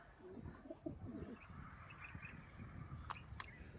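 Male homing pigeons held for training coo in a faint, low, continuous murmur, with a couple of brief high chirps near the end.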